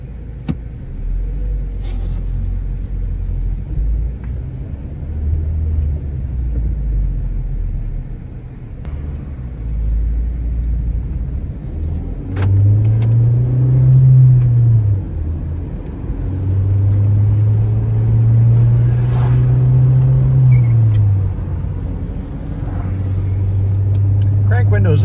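A used Ford Focus compact car driving with a steady engine rumble that rises in pitch as it accelerates through gears, heard from inside the cabin under someone talking throughout.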